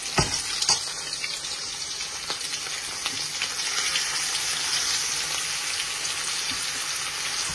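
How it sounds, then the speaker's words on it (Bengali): Chicken pieces drop into hot oil for chicken bhuna. Sharp cracks at the start give way to a bright, steady sizzling hiss that grows slightly fuller and continues close by. "অয়েল গরম হয়ে গেছে এখন আমি চিকেন দিলাই"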